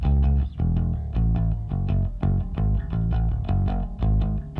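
A bass line from a song plays on its own, loud and close, with deep sustained notes changing in a steady rhythm and some percussive attacks above.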